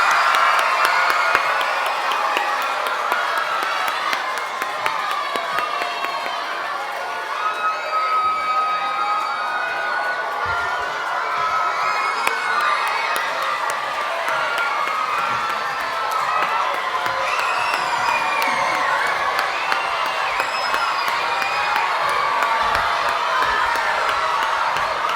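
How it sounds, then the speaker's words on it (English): A school audience cheers, shouts and claps for Year 4 contestants at a mental maths quiz, with children's voices squealing over steady crowd noise that carries on loudly and evenly for a long stretch. "Can we give them a round of applause?"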